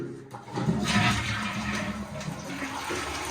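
A brand-new smart toilet in a modern apartment in Nairobi flushes with a loud, close rush of water that swirls and drains steadily for several seconds.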